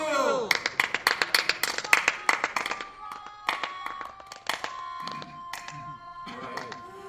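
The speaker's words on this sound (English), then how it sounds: "Please give a round of applause for the wheel!" Clapping from a small audience at a live show, a burst of sharp claps over the first few seconds that thins out, with cheering voices and talk running through it.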